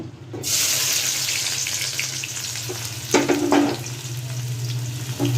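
Chopped onions drop into hot mustard oil in a kadai for a snakehead fish bhuna, bursting into a sudden close, steady sizzle that holds for several seconds with a few brief scraping stirs midway.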